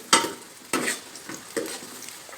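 Onion and garlic sautéing in oil in a casserole, with a few sharp stirring scrapes about every second over a soft, steady sizzle, close and moderately loud.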